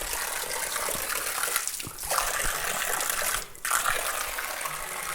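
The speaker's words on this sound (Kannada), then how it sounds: "ಅದು ಪೈಪಿನ ಮುಖಾಂತರ ಒಂದು ಮೂವತ್ತು ಫೀಟ್ ನೀರು ಬರ್ತದೆ" Steady broadband rush of water flowing from a pipe at a temple, continuous and fairly close, with brief dips in the flow.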